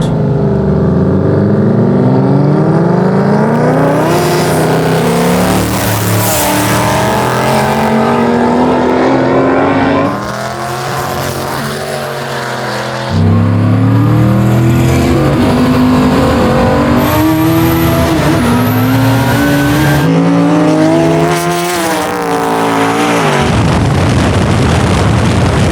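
A Camaro SS and a sleeper EG Honda Civic drag car in a roll race, loud engines revving and accelerating hard with rising and falling pitch sweeps, continuous and close for the whole stretch, with no talking.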